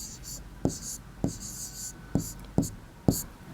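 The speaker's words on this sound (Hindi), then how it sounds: "तो हम यहाँ लिख देंगे भावेश" Chalk or marker writing a name on a classroom board: five sharp tapping strokes at irregular intervals with faint scratching between, close and fairly quiet over a low room hiss.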